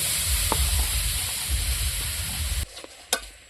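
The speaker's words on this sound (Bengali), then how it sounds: "এখন আমি কড়াইটা গরম হয়ে গেছে আমি এখন খানা দিয়ে দেবো" Jaggery dropped into a hot kadai sizzles and hisses loudly and steadily with stirring scrapes, then cuts off abruptly, leaving a few faint clinks.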